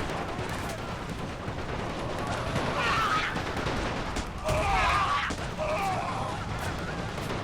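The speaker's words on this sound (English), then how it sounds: "A few brave Germans actually returning fire." Rifle fire from soldiers in The Great War mod battle between France and Germany, a dense continuous crackle of distant shots with heavier bursts in the middle, steady throughout.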